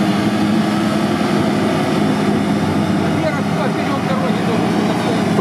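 A GAZ-66 or Niva off-road vehicle's engine drones loudly and steadily on a rutted tank road, a continuous low mechanical roar that never lets up, with voices talking over it.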